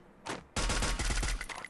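Hip-fire gunfire in the Free Fire mobile battle royale game: a short burst, a brief pause, then a sustained loud volley of rapid shots with no talking over it.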